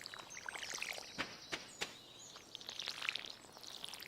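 Watering crops in the Stardew Valley video game: soft splashing and pouring sounds with a few sharp clicks, set against chirpy background game audio, moderately quiet.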